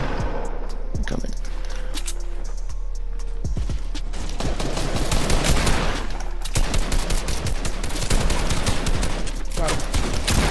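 Dense gunfire in the Fortnite battle royale video game rattles in rapid bursts of shots and sprays, loud and nearly continuous, with players talking at times.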